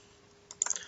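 Brief burst of computer keyboard typing, a quick cluster of crisp key clicks near the end after a quiet pause.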